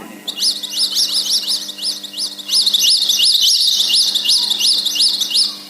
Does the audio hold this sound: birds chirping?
yes